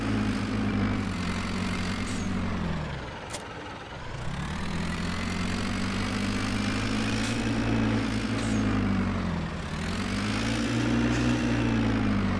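A farm tractor engine in Landwirtschafts Simulator 17 drones loudly and steadily with a deep, rumbling hum, dipping briefly in pitch twice as the revs shift, with no voices over it.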